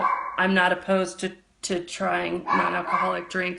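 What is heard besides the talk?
dogs barking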